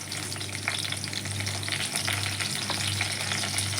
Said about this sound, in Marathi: त्याच्यानंतर मी घालते कढीपत्तो जो आपण धुवून घेतलेलो हा.